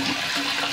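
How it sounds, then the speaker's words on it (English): Water rushes steadily down a bathtub drain fitted with a hair-catching drain insert, making a loud, continuous gushing sound with no talk. "we're gonna flush a little water through"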